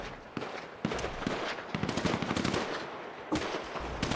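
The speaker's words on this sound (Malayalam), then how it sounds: "വെടിപൊട്ടി, ഇവിടെ വെടിപൊട്ടി." Video-game gunfire in a turf war match: bursts of rapid sharp shots, some in quick automatic runs, others as single cracks, spread across the stretch with mid-level loudness and no talk.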